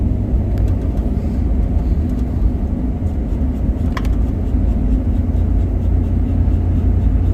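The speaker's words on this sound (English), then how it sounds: "the garbage truck makes a lot of noise" A garbage truck engine produces a loud, steady low rumble that fills the scene continuously, heard close by without voices over it.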